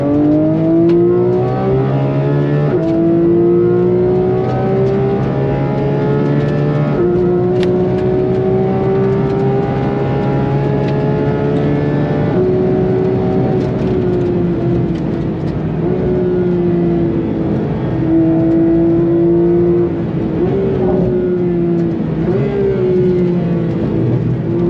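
A Porsche GT3 RS at full attack around the Nürburgring, its engine screaming loud and close from the cabin, pitch climbing through gears with brief drops at each upshift and sustained high revs.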